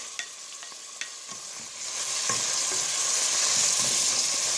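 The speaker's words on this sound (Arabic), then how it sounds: "نخليه يتقلى هكذا" Onions fry in a pan for chicken basquaise, with red and green peppers going in; a few utensil taps lead into a sizzle that swells and stays steady and close.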